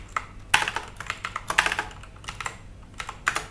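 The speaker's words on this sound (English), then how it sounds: "Now here I am typing ls and enter" Typing the ls command on a computer keyboard while working in a Linux terminal: a quick, irregular run of sharp, close key clicks with a few stronger taps and brief pauses, no voices.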